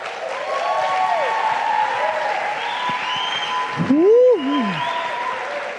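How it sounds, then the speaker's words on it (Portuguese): An audience at a church EP launch event gives loud, sustained applause, with a sliding vocal sound briefly rising over the clapping near the end. "Você pode aplaudir a Jesus?"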